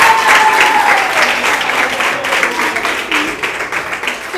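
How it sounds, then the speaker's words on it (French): Loud, dense audience applause for a contestant on a reality-TV selection show, steady clapping with crowd noise filling the whole stretch and easing slightly toward the end. "On peut l'applaudir déjà."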